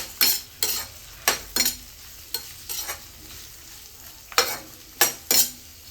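Onions frying on the stove for corn fried rice, a low steady sizzle broken by sharp, rhythmic scrapes and taps of a spatula stirring in the pan, close and clear with no talk.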